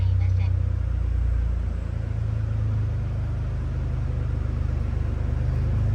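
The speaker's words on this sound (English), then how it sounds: "Let me go ahead and crank it." A 1997 Mitsubishi GTO SR AWD engine rumbles steadily up close after being cranked and started, a deep even drone filling the whole stretch.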